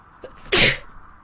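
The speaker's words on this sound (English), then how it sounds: "I need to sneeze again." A single sharp sneeze bursts out close by, loud and brief, preceded by a faint intake of breath.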